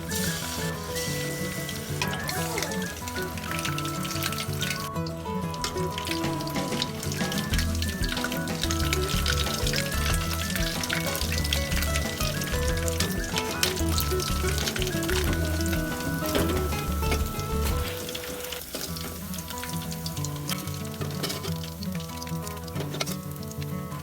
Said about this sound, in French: Faites frire le poulet jusqu'à ce qu'il soit doré pendant un moment et faites une deuxième friture pour un résultat plus croustillant.